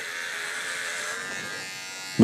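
VGR V-082 electric hair trimmer cutting hair, giving a steady close buzz that holds evenly for about two seconds before a brief louder bump at the end.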